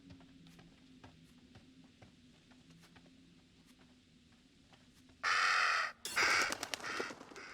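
A crow-like bird in the video game Little Hope gives two loud, harsh, noisy caws near the end, after a quiet stretch of soft ambient game sound with faint ticks.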